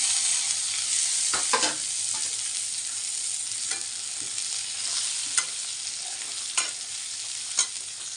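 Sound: stir-frying chopped karada leaf vegetable in pan

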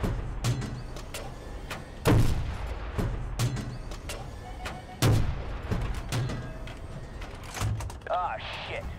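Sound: gunfire in Battlefield video game

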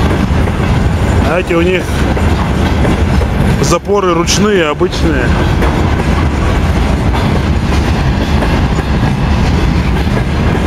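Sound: railway freight wagons rolling

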